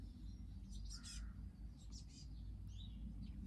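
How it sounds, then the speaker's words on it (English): Outdoors on a lawn, several birds call in short, high chirps and squawks scattered over a few seconds, faint and distant over a low rumbling background. "I'm getting distracted by birds."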